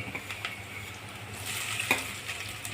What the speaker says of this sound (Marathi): आता आपण भेंडी घालत आहोत.